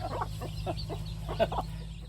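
Chickens on a rural Thai farm cluck in a run of short, repeated calls, fairly close and moderately loud over a steady low hum, with no talk.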